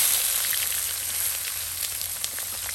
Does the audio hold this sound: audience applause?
no